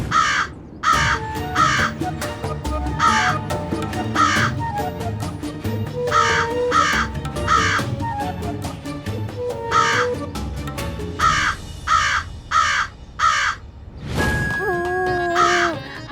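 Crows caw repeatedly in short, harsh bursts over a busy background of music and other sounds, with calls coming in quick irregular clusters and a brief swell of noise near the end.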